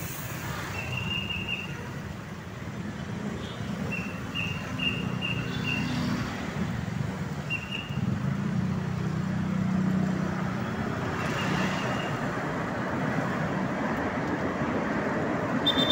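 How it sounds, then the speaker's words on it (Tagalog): Steady road traffic on a busy street in Balintawak, Quezon City, a continuous rumble of engines with occasional brief higher tones, like horns or brakes, rising over the din. "Kaya matraffic po ngayon dito sa may Balintawak, Quezon City."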